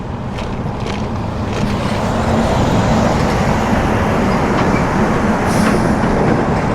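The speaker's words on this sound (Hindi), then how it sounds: "ट्रैफिक जो है वो हैवी चल रही है" Heavy road traffic roars loudly and continuously on a road to Obhur, a dense, steady rumble of passing vehicles with no pauses, heard from close by.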